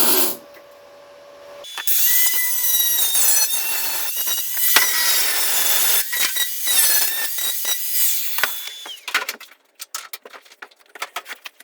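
An angle grinder works on a rusty Ford Escort MK1 wing, a loud high-pitched whine spinning up, biting into metal in bursts for several seconds, then winding down into scattered clanks and scrapes.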